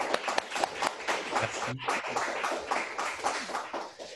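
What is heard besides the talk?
audience applause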